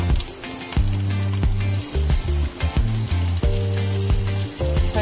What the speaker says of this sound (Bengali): আমি একটু কাঁচা কাঁচা তেলেই পছন্দ করি খেতে, তাই এই কাঁচা তেলেই আমি দিয়ে দেবো পেঁয়াজ